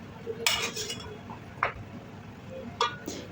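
A utensil stirs boiling meat in a cooking pot on the stove, giving a few faint scrapes and metallic clinks against a low bubbling background.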